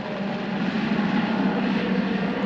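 A supply helicopter flies near a mountain refuge by Aiguille du Midi, its rotor and engine making a steady, loud, broadband roar that holds without a break.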